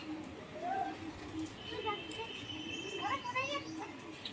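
Pigeons in a loft with breeding pairs give soft coos and occasional chirps, fairly faint against a murmuring background with distant voices.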